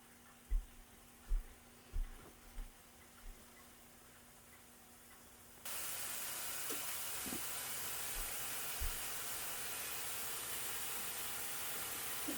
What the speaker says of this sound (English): The stove is on, so that will begin to sizzle here in a moment.